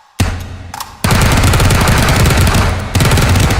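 Rapid, loud automatic gunfire at close range, a sustained burst after a couple of single shots, with a brief dip before firing resumes.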